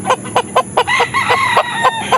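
A gamefowl rooster on a game farm crows loudly and close by, one long call with a rising harmonic sweep, mixed with short repeated clucks from nearby fowl.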